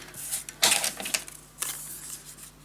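Scissors cut paper for a scrapbook mini album in a few crisp, close snips and rustles, with a louder slicing burst early and another later, over a low steady hum.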